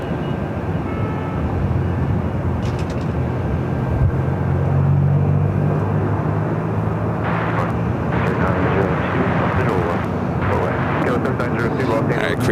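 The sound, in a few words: Korean Air airplane taxiing at LAX airport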